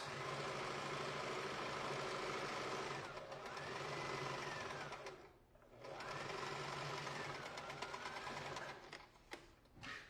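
Basic domestic sewing machine running while a jacket is sewn, a steady close whirring drone that drops out briefly twice and resumes, fairly quiet overall, with no talking.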